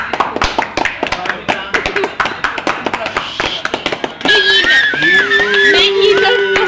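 A group of people clap their hands in quick, uneven bursts, loud and close, then the claps give way to voices and a singing or whistling tone near the end.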